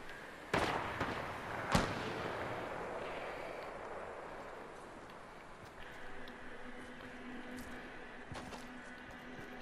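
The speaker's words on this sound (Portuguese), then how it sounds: "Cadê os caras que tá dando tiro ali" Sharp gunfire bursts in a multiplayer shooter video game, two loud cracks early followed by scattered fainter distant shots over a steady rumbling battle ambience, with no talk over it.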